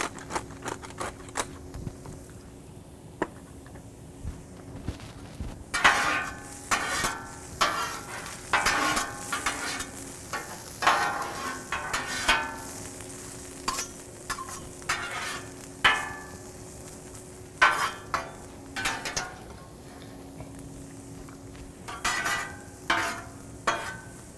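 Ham and Mexican chorizo frying on a Blackstone griddle, a steady sizzle broken by repeated sharp scraping and clattering strokes of a spatula, loud and close, with no one speaking.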